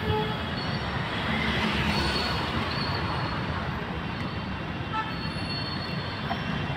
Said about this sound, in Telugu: ఇది ఇక్కడ నుంచి మరి ట్రైన్ ఇక్కడి నుంచే మళ్ళీ రిటర్న్ అవుతుంటుంది